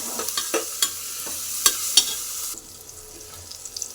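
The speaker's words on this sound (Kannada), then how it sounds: "ಉಪ್ಪು ಅರಿಶಿನ ಹಾಕಿ ಮತ್ತೆ ಫ್ರೈ ಮಾಡ್ಕೊತೀನಿ." Native country chicken masala fries in a pan with salt and turmeric, giving a soft steady sizzle broken by several sharp scraping stirs of a spoon, close by with no talk.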